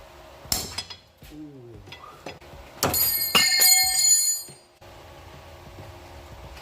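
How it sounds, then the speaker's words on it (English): Metallic clinks and ringing taps of a 12mm wrench on transmission bolts under a 2010 Ford F250, sharp close strikes scattered across the moment with a brief bright ringing cluster, then quiet. "now we're gonna switch to a regular 12mm wrench"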